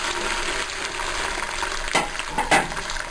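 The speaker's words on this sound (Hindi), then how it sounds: "घी को हमने गरम कर लिया। अब हम इसके अंदर तमाम भिंडियों को ऐड कर देंगे" Okra sizzles in hot ghee, a steady close crackling hiss with a couple of louder stirring scrapes partway through.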